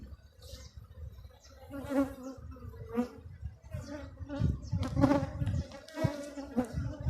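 Honey bees buzz busily in an opened hive box, a dense swarm drone with individual bees whining close by, while someone talks over the humming.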